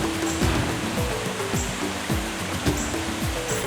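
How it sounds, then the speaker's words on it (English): A waterfall in a Hawaiian jungle gives a constant, full roar of falling water, with repeated tonal chirping calls layered over the wash, close and without talk. "we finally made it to the falls"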